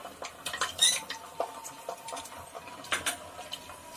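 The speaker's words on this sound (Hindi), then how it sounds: "अदरक लहसुन का पेस्ट डाल के भूनेंगे थोड़ा सा।" A spatula stirs and scrapes ginger garlic paste as it is sautéed in a pan, producing light, irregular metallic clinks and taps at close range with quiet sizzling beneath.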